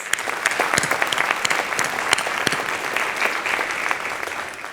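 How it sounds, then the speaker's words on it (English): A crowd at Greensboro's 2024 State of the City event gives dense, sustained applause, many hands clapping together at an even level throughout, with no speech over it. "Let's give them all a big round of applause."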